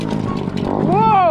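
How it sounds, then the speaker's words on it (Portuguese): A motorcycle on a dirt trail approaches and rises in pitch close by, its engine whine sweeping past over steady wind and bike noise, with brief talk early on. "A motoca."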